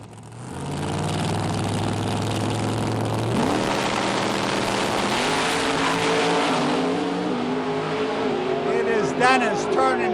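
A drag race car with an 814 cubic inch engine running 118 octane gasoline idles loudly through staging, then launches with a rising roar and a shift. An announcer talks over it.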